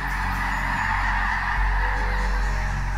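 Migrating geese honk continuously in a dense, loud, distant chorus, the calls blending into a steady wash over a rumbling low background.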